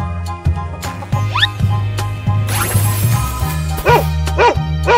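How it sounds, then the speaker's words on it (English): In a children's cartoon, a dog lets out a series of short, sharp barks and yips at an uneven rhythm. They sound close and loud over cheerful background music, with squeaky effects mixed in. "Dog."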